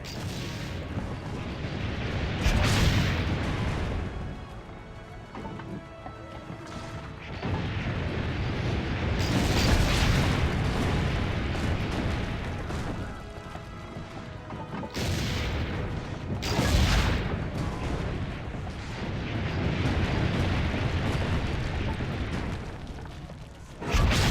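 Cannon fire and explosions in an Assassin's Creed video game battle, with loud repeated booms and blasts rolling over a constant rumbling din, no talk heard.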